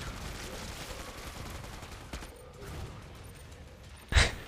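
Gunfire and explosions in the shooter game Killing Floor 2, a dense rattle of continuous shots with a sharp, loud blast near the end.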